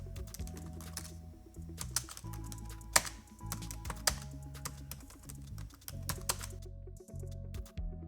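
Typing on a computer keyboard, quick irregular clicks and taps at close range over a faint steady hum, with no voices.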